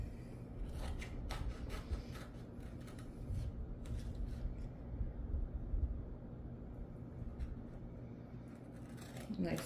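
Scissors cutting a length of transfer tape for a Christmas basket craft, a continuous soft rasping snip under steady room noise, close and fairly quiet.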